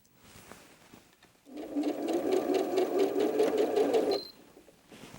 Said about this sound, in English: Sew all the way to the end, and then take the next one and just feed that in.